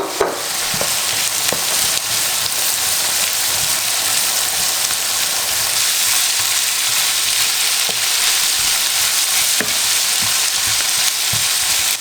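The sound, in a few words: carrots frying in a pan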